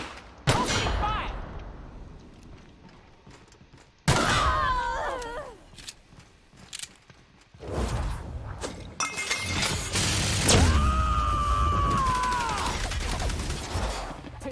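Bursts of gunfire in the video game Outer Worlds, mixed with shattering impacts and whining synthetic game effects, loud and uneven with short gaps.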